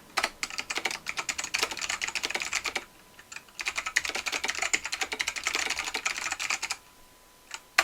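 Rapid typing on a computer keyboard, steady bursts of close key clicks with a short pause near the middle, no voices.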